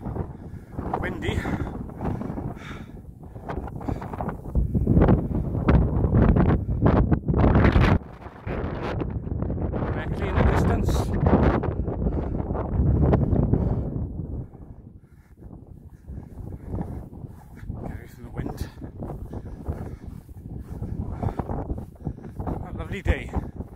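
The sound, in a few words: wind blowing on microphone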